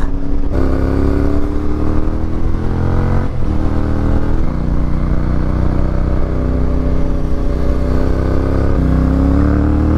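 A heavy truck engine labors up a steep climb on the Caramoan–Presentacion–Lagonoy road in Camarines Sur, droning loud and steady at close range with shifting harmonics as it strains, with no talk over it.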